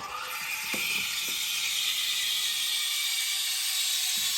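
A Breville Oracle Touch espresso machine steam wand froths 2% milk with a steady hissing rush and faint gurgling, plus a few soft mechanical clicks near the start, continuous and close.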